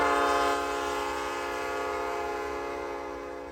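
A loaded coal train of about 15,000 tons, pushed up a mountain grade by SD70ACe helper locomotives, sounds a sustained loud multi-tone horn that holds steady and slowly fades.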